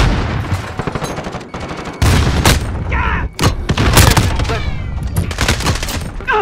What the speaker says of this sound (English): Precision airstrike.